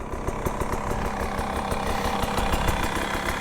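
A 2023 Beta 300RR Race Edition two-stroke motorcycle engine idles close by with a fast, even, steady putter that holds unchanged throughout.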